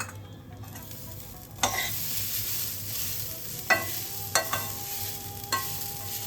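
Grated coconut dry roasting with melon seeds and cashews in a pan for gond laddu, giving a steady low sizzle under repeated scraping stirs, with several sharp clinks of the spoon against the pan, close and moderately loud, no talk.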